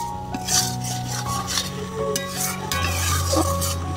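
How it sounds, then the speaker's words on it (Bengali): A spoon stirs masoor dal mixed with egg bhujia in a pot, scraping and clinking against the metal under a soft sizzle, close and continuous, with no voices. "এখন ডিমের ভুজিয়াটা দিয়ে একটু নাড়িয়েই নামিয়ে নেব।"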